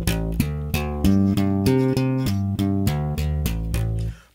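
Electric bass played with a double-thumb slap technique and the strings left unmuted, so roughly a dozen quick, even notes ring into one another and the last one sustains and fades.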